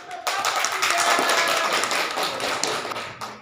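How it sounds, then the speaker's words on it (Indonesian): A school classroom audience claps for presenters in a math lesson, a dense, lively round of applause lasting a few seconds before tapering off. "Kasih aplaus"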